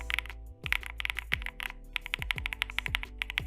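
Keystrokes on a CF81 Pro keyboard fitted with WS POM+ linear switches and purple keycaps, a steady run of close, crisp clacks with a brief pause, no talking.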